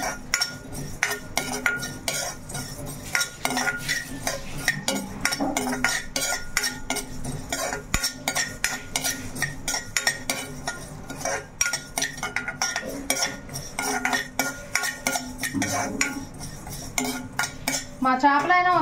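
Fenugreek seeds roasting with cumin in a metal pan for a fish curry, a busy stream of rapid scraping and clinking as a spoon stirs continuously, close and fairly loud throughout.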